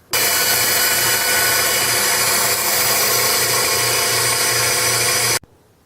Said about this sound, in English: Time to rough out the profile on the bandsaw.